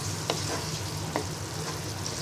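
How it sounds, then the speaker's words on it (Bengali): Cumin powder being stirred into bottle gourd frying in a pan for Bengali lau bhaji: a steady close sizzle with a couple of brief scraping stirs. "এবার জিরার গুঁড়োটা ভালো করে মিশিয়ে নিব।"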